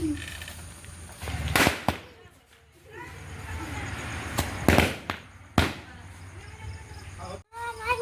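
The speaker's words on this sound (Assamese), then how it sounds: "মই বোমা মাৰিছো ভালেই হৈছে" Diwali firecrackers go off outdoors in several sharp, loud bangs spread across the stretch, some with crackling tails, while people talk and call out between the blasts.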